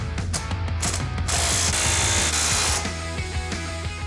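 Metabo SSW 18 LTX 800 BL cordless impact wrench tightening nuts, a loud continuous rapid hammering rattle that shifts pitch partway through, close up with no voices.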